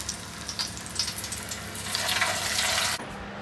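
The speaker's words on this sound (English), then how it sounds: "we've got some parboiled potatoes going into hot oil" Parboiled potatoes hit hot oil with a loud, steady sizzling hiss that swells briefly and then cuts off sharply near the end.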